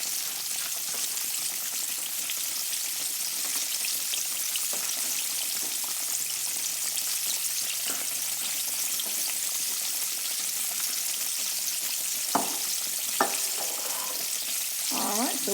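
Flounder pieces fry steadily in hot grease in a pan, a dense, continuous close sizzle with crackling pops throughout and a few sharper spatters near the end, no talk.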